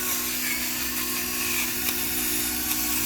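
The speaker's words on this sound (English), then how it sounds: "You guys know my favorite pepper grinder by now." A pepper grinder cranks steadily for about three seconds, its dense, continuous mechanical grinding whir staying close and even throughout, with no talk over it.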